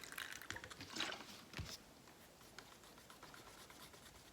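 A small splash and trickle of water poured into acrylic pouring paint mixed with Floetrol, brief and fairly faint, then quiet room tone.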